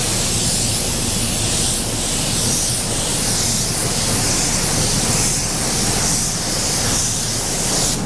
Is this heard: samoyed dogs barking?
no